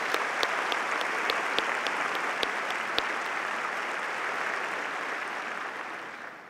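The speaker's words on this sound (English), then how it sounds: "Let's have a round of applause for this very special group of individuals." Audience applause at a fall graduation ceremony, a steady dense wash of clapping from a large crowd that holds for several seconds and tapers slightly toward the end, with a few sharper claps standing out.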